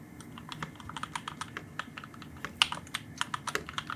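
Rapid keystrokes on a computer keyboard, a steady stream of close, crisp clicks with occasional sharper taps, no talking.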